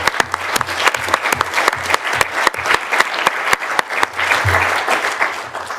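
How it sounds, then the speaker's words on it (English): A crowd at a Harlow Council charity event gives the Playhouse team a round of applause: many hands clapping in a dense, steady patter with a few sharper claps standing out near the front. "I think they deserve a public round of applause"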